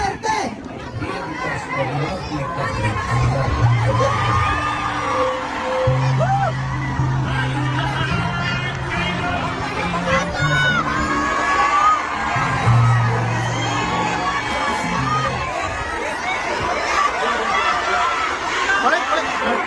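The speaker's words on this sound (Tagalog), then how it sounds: "Ano ang sigaw ng mga mamalang Pilipino? Duterte! Duterte! Duterte" Large crowd at a Duterte rally in the Philippines chanting and cheering, loud continuous roar with rhythmic shouted chants, whoops and babble throughout.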